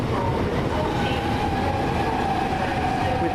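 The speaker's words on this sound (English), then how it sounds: "Just now leaving, final train" A train rumbles and clatters as it pulls away from a London station, with a steady rolling drone and a faint high wheel tone, no talking.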